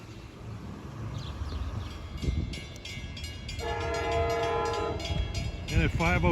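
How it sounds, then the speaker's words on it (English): A Long Island Rail Road train on the Port Jefferson Branch rumbles closer to St. James, its horn blaring in a long multi-tone blast, then sounding again in shorter bursts over the clatter of the wheels. "approaching St. James is train 656 en route from Hunters Point Avenue to Port Jefferson"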